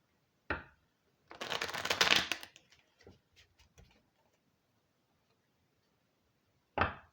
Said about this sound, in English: as I shuffle here